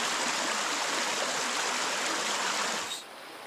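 Water stream bubbling and rushing inside a cave in Gower, a steady loud broadband wash that holds for about three seconds before dropping to a quieter flow.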